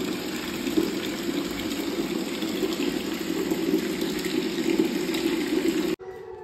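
Water runs steadily from a tap to fill a hot bath, a close, even gushing that stops abruptly near the end, leaving faint background.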